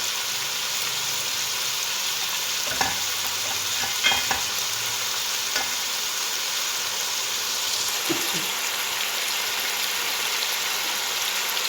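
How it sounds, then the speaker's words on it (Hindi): Chicken pieces sizzle on a barbecue stove while being turned, a steady loud frying hiss broken by a few clinks and scrapes as the meat is flipped, with no talking. "इन बोटियों को आराम आराम से इन सबको पलट देंगे।"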